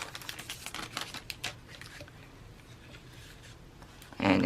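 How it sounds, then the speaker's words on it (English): Packaging on a mailed gift crinkles while being unwrapped, giving soft papery rustles and crackles in close, scattered bursts, with a louder rustle near the end. "Sorry for the crinkling."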